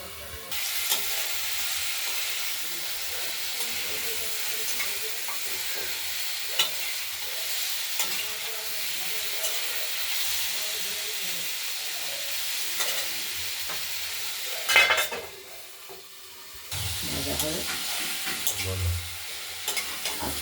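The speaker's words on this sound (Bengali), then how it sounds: "সর্ষে আর লঙ্কা ফোড়ন দিয়ে কুমড়ো ভাজা" Thin-cut pumpkin fries in oil with mustard seeds and green chilli, giving a steady close sizzle with stirring. The frying briefly drops away near the end and then returns, and no one speaks.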